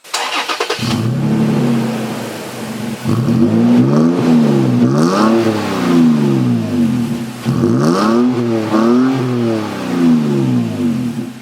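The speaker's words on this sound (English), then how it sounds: "And then on the passenger side is the single exit exhaust." A lifted 2017 Toyota Tacoma TRD Off-Road pickup's engine starts and revs repeatedly through its single-exit exhaust, the note rising and falling in several loud, close bursts with no talking.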